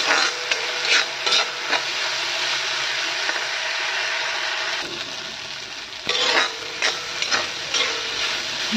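Food fries in a pan for an Assamese home lunch, a dense, loud hiss and crackle with periodic spatula scrapes and stirring bursts, dipping briefly in the middle before resuming.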